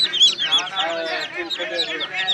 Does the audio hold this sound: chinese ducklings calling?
yes